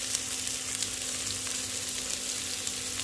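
Cumin seeds and chopped onion sizzle and crackle in very hot oil in a pan, a steady close frying hiss that runs alone for the whole stretch with no talk.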